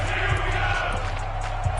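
A football video game crowd roars steadily in a dense, continuous wash of cheering and noise during a big third-down moment late in the fourth quarter, loud and unbroken throughout.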